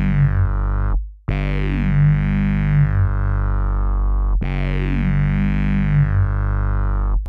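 A detuned sine wave on a synthesizer bass patch with chorus effect, two sustained gliding tones with a slight wavering beat, separated by a brief gap, loud and alone.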